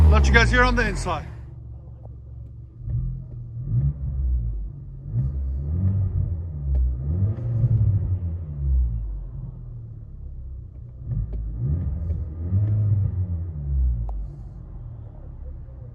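Cabin of a 2019 Chevy Malibu with a 1.5L four-cylinder turbo engine and muffler delete: a low rumbling drone swells and eases in repeated waves of acceleration, preceded by a brief burst of talk at the start.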